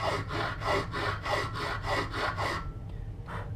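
Steady back-and-forth strokes of a file or stone sharpening the sawback spine of a knife, about ten even rasping passes in quick rhythm, close and clear, then a brief pause and one last light stroke.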